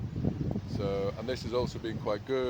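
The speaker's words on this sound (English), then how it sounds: "Apologise for the wind, it's quite windy here today again." Low, rumbling wind buffets the microphone throughout while a person speaks close up.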